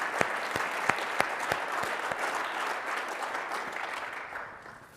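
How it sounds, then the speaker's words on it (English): Audience applause at a tech event, a dense steady wash of clapping with a few sharp individual claps early on, holding level for several seconds before easing slightly at the end. "Does that deserve a round of applause?"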